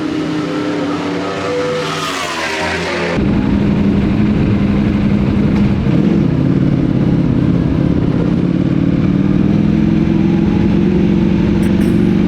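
BMW motorcycle ridden at speed on the Phillip Island race track, a loud sustained engine drone with a gear change and rising revs, heard from a following bike amid wind noise.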